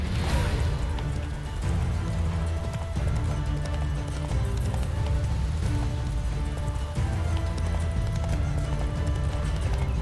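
Horse hooves clip-clop steadily at a gallop in The Witcher 3 as the horse travels back onto a road, a continuous loud rhythmic beat layered over game music and ambience with an occasional whinny.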